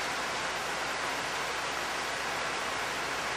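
Water from Foley Creek, flowing toward the Chilliwack River, rushes in a steady broadband hiss, close and continuous with no breaks.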